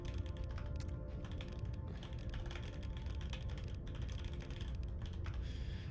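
Continuous rapid typing on a computer keyboard, a busy stream of small clicks and taps running steadily throughout at moderate level with no voices.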